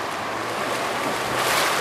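Flood water flowing through a city street in intense rain, a steady broad rushing wash that swells slightly toward the end, with no talk.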